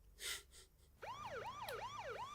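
Sirens in an animated BoJack Horseman episode: a quiet gasp-like sound at the start, then a wailing siren sweeping up and down in a steady cycle for the rest of the clip.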